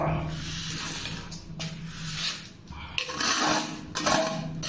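A scraper blade grinds through thick limescale on bathroom tiles in repeated broad rasping strokes, close and fairly loud, with short pauses between passes.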